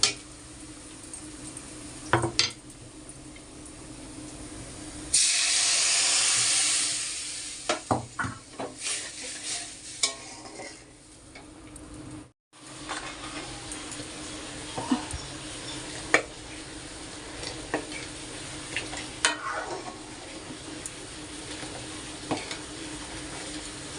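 Dal being tempered and potatoes fried in a pan, with a loud burst of sizzling oil partway through, surrounded by utensil clinks, stirring scrapes and quieter frying.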